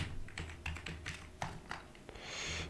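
Typing on a computer keyboard, a run of close, crisp key taps in an irregular rhythm with short pauses, alone and fairly quiet.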